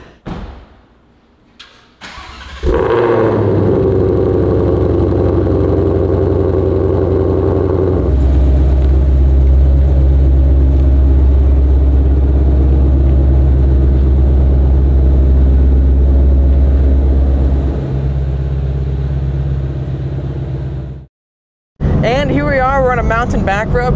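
A race car engine fires up with a thump and then holds a loud, steady, deep roar for about twenty seconds before it cuts out abruptly.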